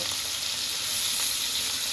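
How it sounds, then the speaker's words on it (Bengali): Fish pieces frying in a pan, a dense, even hiss of hot oil sizzling close and steady throughout, with no other sounds or talking. "এখন মাছগুলো এক পাশ ভাজা পর্যন্ত আমরা অপেক্ষা করবো"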